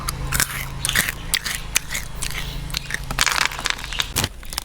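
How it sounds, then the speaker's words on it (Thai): Crunchy freeze-dried snack being bitten and chewed up close, a steady run of loud dry crunches and crackles with no talking. "กรอบอร่อยเคี้ยวเพลินมาก"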